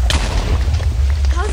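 Minecraft creeper explosions in multiplayer survival, a loud booming blast with a rumbling low tail filling the short clip, and faint voices underneath.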